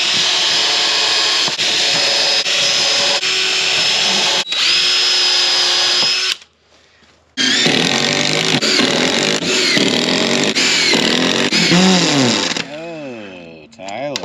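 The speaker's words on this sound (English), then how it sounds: "I'm drilling pilot holes on these" A power drill bores pilot holes, giving a loud steady whine that runs for several seconds, stops briefly, then starts again for another long run and winds down at the end.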